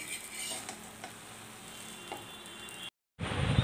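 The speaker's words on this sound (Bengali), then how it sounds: "অমলেটগুলোকে ভেজে নিচ্ছি" Omelettes frying in a pan at home, a steady sizzle with faint scrapes and clinks, cut by a brief silence near the end before a louder burst of frying noise.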